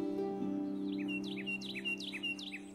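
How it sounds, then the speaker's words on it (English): Carolina wren call from the Wingspan digital board game: a rapid series of bright, repeated chirping phrases in a steady rhythm, played clearly over a constant humming background drone without talk. "Play your Carolina wren."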